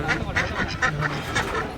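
Ducks or geese by the water give a run of rapid nasal quacks and honks, close and fairly loud, with people talking in the background.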